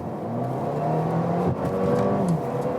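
A 2020 Mercedes CLA Shooting Brake 250 4Matic with a small engine accelerates onto a motorway from 50 to 80 km/h. A steady engine hum climbs in pitch, drops briefly at a gear change, then rises again under road noise, heard from inside the car.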